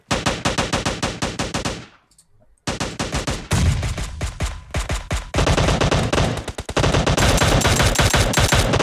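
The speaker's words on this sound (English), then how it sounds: "And there's rounds going everywhere." Dense automatic gunfire from a video game battle royale match, rapid bursts of shots crackling loudly almost without pause, with a brief quiet gap before the firing resumes even heavier.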